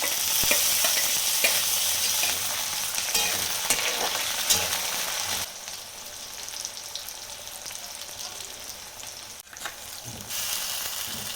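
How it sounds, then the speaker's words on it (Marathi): Tomatoes dropped into onions frying in oil in a pan, a loud bright sizzle with stirring scrapes that eases a little partway through, no talk. "कांदा थोडासा लाल तळून घ्यायचा टॅमॅटो टाकते आता"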